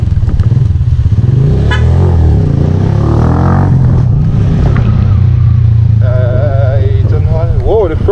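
A Falcon 200cc motorcycle roars loud and close as it rides and accelerates in first gear, engine revving steadily throughout while a rider talks over it.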